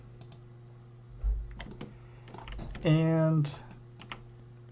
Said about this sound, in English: we'll press 6 on our keyboard so that we can see textures